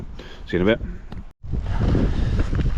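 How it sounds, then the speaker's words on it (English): Strong wind batters the microphone on an open hillside during a ride on a Trek Slash+ HPR60 electric mountain bike, a steady loud roar with a brief cutout, and someone speaks briefly over it early on. "it is dead windy"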